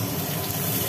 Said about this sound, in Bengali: পড়ে গেল জল।